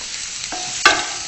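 A mushroom stuffing is sautéed in a pan with a steady close sizzle, broken by a sharp spoon scrape near the end. Short and fairly loud, with no one speaking.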